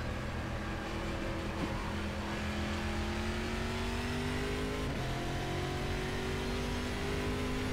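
Stock car engine in the racing game Game Stock Car 2012, leaving pit lane with a steady, loud engine drone that rises in pitch through gear changes, heard close and continuous.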